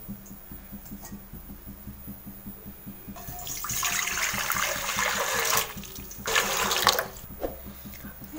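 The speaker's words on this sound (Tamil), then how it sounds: "அதில் இட்லி பாத்திரத்தை வச்சு கொஞ்சமாக தண்ணி ஊற்றிக்கோங்க." Water poured from a tap into an idli steamer pot, a steady gushing splash that swells for a few seconds, pauses, then runs again briefly, close by with no voices.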